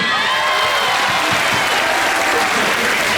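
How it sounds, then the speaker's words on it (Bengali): An audience at a TEDx event in Bangladesh breaks into dense, sustained applause, loud and close, a continuous wash of many hands clapping throughout with faint crowd noise underneath. "ওনার জন্য একটা হাততালি।"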